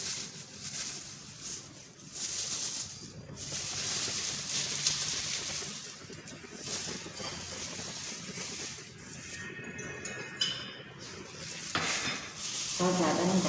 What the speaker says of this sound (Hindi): मैं पौना कप मटर डाल रही हूँ